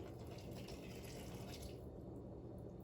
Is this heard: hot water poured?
yes